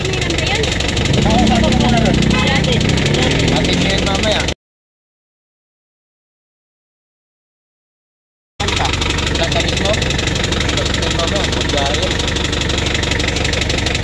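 A car engine with blow-by idles loudly and close with a rough, knocking chug, interrupted by a few seconds of silence before the same steady idle resumes.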